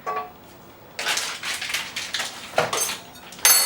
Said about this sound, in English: just slice it off and pop it into the pan